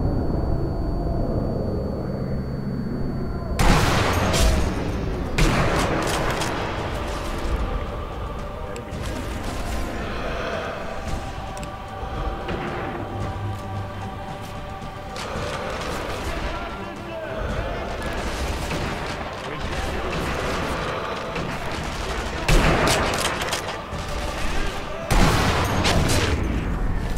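Gunfire in the video game Sniper Elite V2, with repeated sharp shots and booming blasts over a busy, dense game soundscape. The bursts come at irregular intervals and are loud and close, with other noise behind them.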